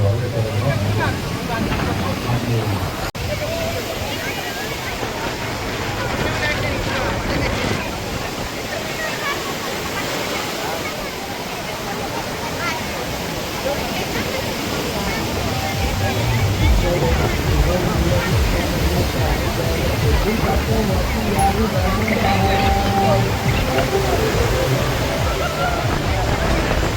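Strong wind at a crowded children's kite festival roars steadily and loudly for the whole stretch. Voices from the crowd blur into the gusting rush.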